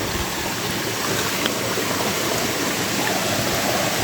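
Natural spring water flowing on a hiking trail in Sinakungan, Esperanza, Agusan del Sur, a loud steady close rush of water with no voices.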